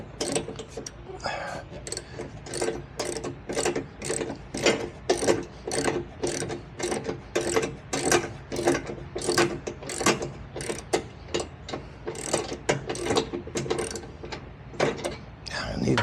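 A socket ratchet cranks steadily to tighten the bolts on one side of a refurbished mower deck, its rapid clicking strokes repeating evenly and close up for the whole stretch without talk.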